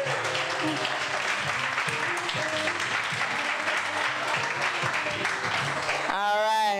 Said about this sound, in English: Give one more round of applause for Mr.